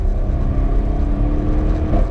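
A sports car with an upgraded exhaust drones deeply and loudly, a steady rumbling exhaust note, close by and continuous.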